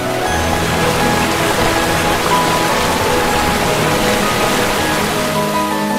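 Steady, dense rainfall pours down continuously in Cherrapunji, India, a loud broadband hiss of heavy rain with no voices.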